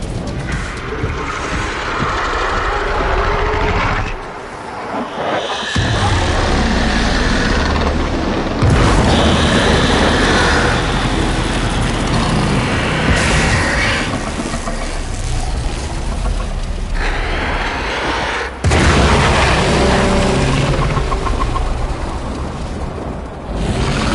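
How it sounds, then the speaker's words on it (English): In the video game Warframe, a heavy explosion booms with debris crashing and falling, a loud, sustained rumbling roar with several sharp breaks and renewed surges across more than twenty seconds. "There should be useful detritus falling from the explosion."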